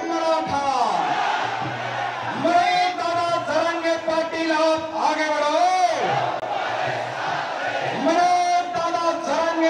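A large crowd of Maratha protesters gathered under the JJ flyover in Mumbai chants and shouts in loud, continuous unison, their voices rising and falling in rhythmic waves.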